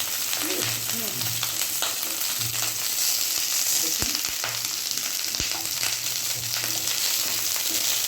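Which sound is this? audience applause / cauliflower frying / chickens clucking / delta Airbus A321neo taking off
cauliflower frying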